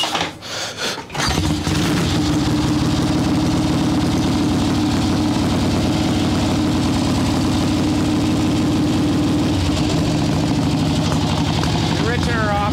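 A swap-meet chopper motorcycle engine idles loudly with the choke on after a brief sputtering start, settling into a steady, rough low rumble that runs throughout while someone talks over it.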